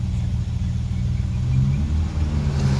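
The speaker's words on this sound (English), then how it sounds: "Driving the 51 Mark 7 following 64 E-Type" A 1951 Jaguar Mark 7 driving behind a 1964 E-Type, its engine a steady low rumble that swells slightly as it pulls along, heard from inside the car without speech.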